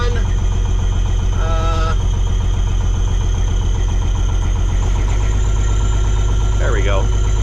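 The diesel engine of a Kenworth cabover truck under restoration idles loudly and close, a steady low rumbling drone that continues throughout, with someone speaking over it.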